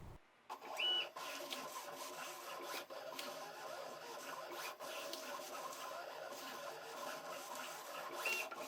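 A VEVOR 28-inch cutting plotter at work cutting a design, a continuous low mechanical whir with faint scraping of the blade and occasional small clicks and beeps, close and steady with no talk.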